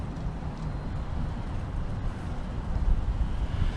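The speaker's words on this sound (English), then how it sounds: "It's kind of windy, so maybe not." Steady wind gusts outdoors beside a creek on a wooded winter hike, a continuous low rumble of buffeting air that swells slightly near the end, with no voices.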